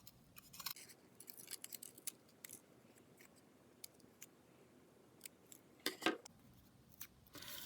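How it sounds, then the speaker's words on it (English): Scissors snip through paper, cutting out small shapes for a notan art piece: a run of short, crisp cuts at an uneven pace, close and quiet, with a few louder snips near the end and no speech. "So I'm going to cut on the smaller shapes as well."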